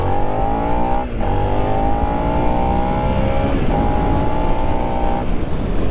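2022 Suzuki SV650 V-twin motorbike accelerating hard from first gear, a loud, close engine note climbing steadily in pitch with quick dips at gear changes, heavy wind rush underneath.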